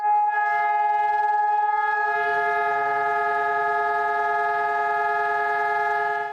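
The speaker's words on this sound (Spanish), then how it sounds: "Fue el sonido de las sirenas que se prendieron en todo el país durante 2 minutos" A steady, sustained air raid siren wail holds one unbroken tone, loud and continuous, with faint background noise beneath it, sirens sounding nationwide across Ecuador for two minutes.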